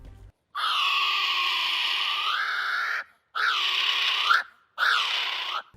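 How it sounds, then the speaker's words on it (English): Three long, loud, piercing shrieks from a kiwi, the first drawn out for seconds, the next two shorter, separated by brief silences. "The kiwi's distinctive call, often described as a high-pitched shriek, is a sound unlike any other."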